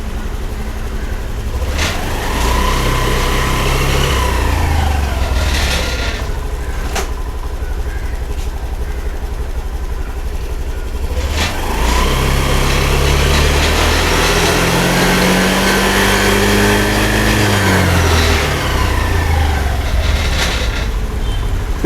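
Honda Activa 6G scooter engine idling and revving, with a steady drone that swells and falls in two broad rises. Sharp clicks break in now and then.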